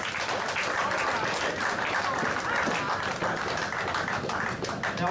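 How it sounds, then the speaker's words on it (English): An audience at a poker match gives a big round of applause for two players, dense, steady clapping throughout with some crowd noise mixed in. "Ladies and gentlemen, big round of applause for our two players, Tim Dixon and Mikey Cacciola."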